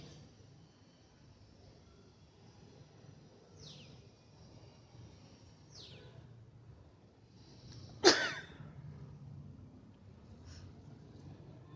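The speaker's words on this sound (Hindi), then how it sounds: "पहली छींक और पहली खांसी एक साथ।" A single sudden sneeze burst together with a cough, sharp and close, rising out of a quiet room with faint background hum and a few soft chirping tones earlier.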